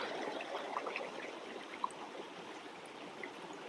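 A river flows steadily beside a car-camping spot, a soft continuous rushing and trickling of water with a few faint bubbling splashes, alone and fairly quiet.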